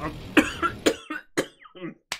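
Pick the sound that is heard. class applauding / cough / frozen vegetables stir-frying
cough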